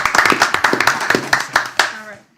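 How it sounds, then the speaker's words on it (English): Hand clapping at a town board of selectmen meeting after a passing vote: a handful of distinct, fairly close claps in an uneven rhythm over about two seconds, then fading out with talk underneath. "we will do our round of applause"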